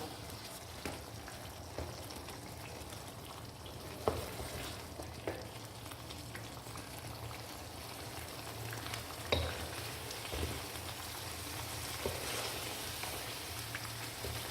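Shaljam gosht, a turnip and mutton curry, sautéing in a pot over a medium flame: a steady, moderate sizzle and hiss with occasional soft stirring knocks, no voices.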